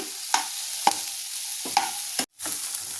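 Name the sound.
green peas sautéing in oil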